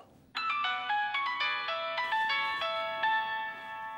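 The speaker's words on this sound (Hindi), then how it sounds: "ये किसका फोन आ गया भाई?" A phone ringtone plays a bright, repeating electronic melody, loud and close, that starts abruptly and carries on without pause, with no voices over it, in a domestic scene from a Pakistani TV drama.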